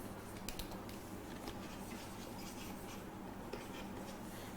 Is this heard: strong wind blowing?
no